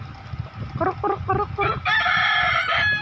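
A rooster crows once, loud and close, after a few short clucks, with a low background murmur underneath.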